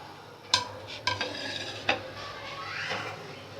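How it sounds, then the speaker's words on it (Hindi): A spoon mixes whole spices (black cardamom, cloves, black peppercorns, cumin) into beef stew in a pot, with a few sharp clinks and scrapes against the metal followed by softer stirring over a low sizzle. "ये चीज़ें डाल के थोड़ा सा इसमें हम मिक्स कर देंगे।"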